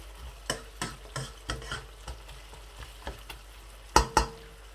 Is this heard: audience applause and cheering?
no